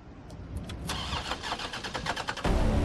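A car engine cranks in the video game Resident Evil 3, churning for a couple of seconds before catching and settling into a loud, close idle.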